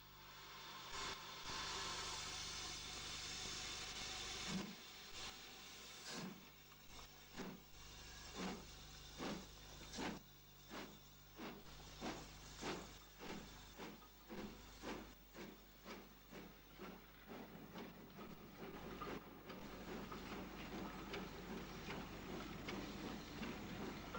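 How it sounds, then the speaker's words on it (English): A Derby-designed standard Class 2 steam tank locomotive, fitted for push-pull branch working, runs with a steady hiss and a clear string of rhythmic chuffs that quicken, then fade back into a continuous roar. "This Derby-designed standard Class 2 tank was fitted with equipment for working push-pull trains on local branches"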